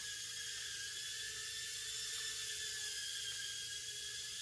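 A tiny HGLRC GD65A whoop drone flies around inside a house, giving a steady high-pitched whine of small propellers that holds evenly throughout.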